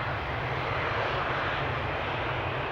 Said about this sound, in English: That means we're going to see the 777 taking off from runway 18 left